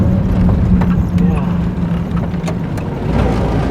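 A Jeep drives along a Normandy beach at the D-Day 75th commemoration, its engine a steady low rumble mixed with wind and surf noise, with people talking over it.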